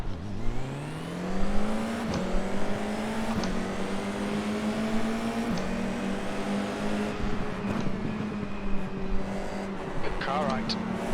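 F4 race cars in iRacing at Okayama circuit, a steady loud engine drone with gear changes and rising revs as nearby cars run alongside, with a driver talking over it.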